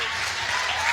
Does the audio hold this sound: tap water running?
no